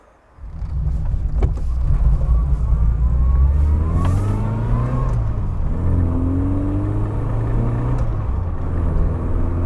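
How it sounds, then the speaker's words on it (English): An MG Metro's small A-series engine revs up and holds a grumbling drone, with rising and falling whine from the gearbox as it accelerates; loud and close, no talking. "I love the A-series engine. It's so grumbly and so eager"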